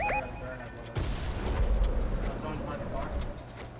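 Fortnite gunfire erupts in a sudden burst of rapid shots that rattle on as a dense fusillade, layered over excited voices and game sounds.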